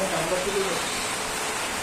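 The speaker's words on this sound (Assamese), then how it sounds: "বৰষুণ দি আছে" Steady light rain patters in the background with a faint tonal hum near the start.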